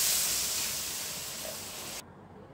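Water poured into hot oil in a pan of spicy okra curry gives a loud, steady steam hiss that slowly fades, then cuts off abruptly.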